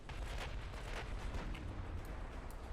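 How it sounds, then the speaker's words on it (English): Seven-inch naval guns fire during a battle in the Ultimate Admiral: Dreadnoughts video game, a run of rumbling, overlapping booms over a continuous low roar, heard at a distance and fairly faint. "These 7-inch guns are actually doing some work."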